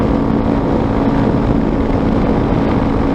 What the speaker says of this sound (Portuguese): Esse escapamento aqui, ele é uma ponteira esportiva